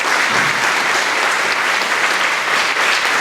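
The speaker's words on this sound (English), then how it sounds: "So please give Diana a round of applause." Sustained audience applause fills a women's empowerment gathering in San Antonio, dense and steady clapping from a crowd at close range with no pause.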